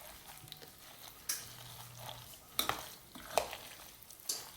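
Farm-raised eggs are stirred into a cauliflower muffin mixture with bacon and broccoli, making quiet soft scraping with a few sharp utensil clinks against the bowl at irregular intervals.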